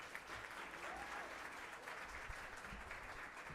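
A hall audience at a university awards ceremony applauds a comedian, a continuous even patter of many hands that holds at steady moderate loudness throughout.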